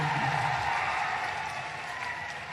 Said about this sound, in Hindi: अब ताली बजा दो